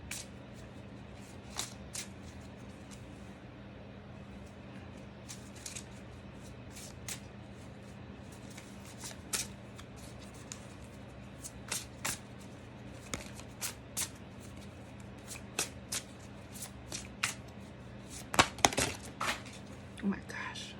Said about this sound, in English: Cards falling.